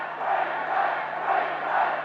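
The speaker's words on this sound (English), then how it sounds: "the Queensland crowd loving every minute of it" A Queensland crowd at a rugby league match roars and cheers in a continuous, broad wash of noise, heard from a distance and steady throughout.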